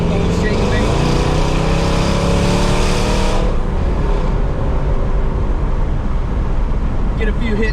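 A modified 5.7 Hemi R/T car drives with a loud engine roar that rises through the revs, then eases into a steady deep rumble and road noise.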